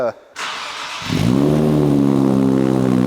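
A Nissan Z engine with new downpipes catches and then revs up, a loud, steady rumble with a strong low hum building after a brief moment of near silence.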